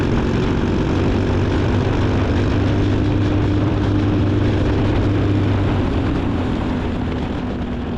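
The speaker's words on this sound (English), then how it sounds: "You can hear just the slightest lift there now to get to tuck in with the damp tires." A Briggs racing kart engine on track with damp tyres, a loud steady close drone with a barely noticeable throttle lift, no talk.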